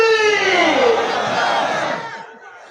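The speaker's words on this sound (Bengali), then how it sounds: "হাত উঁচু করে জোরে তাকবীর দিলেন" A large crowd at a religious gathering shouts takbir loudly in unison, a single sustained roaring chant that swells and then fades out.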